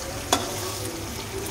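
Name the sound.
small fish frying in a pan after being flipped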